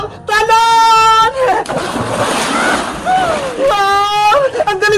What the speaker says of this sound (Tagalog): Ang galing mag-dive ni Bebang!